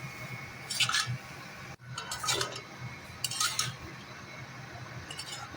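Mustard paste and water stirred in a cooking pot for a bitter gourd and potato curry, with a few scraping, clinking spoon strokes in short bursts against the metal, fairly close and with no talk.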